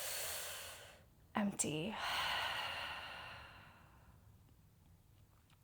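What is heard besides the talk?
deep breaths in and exhale during yoga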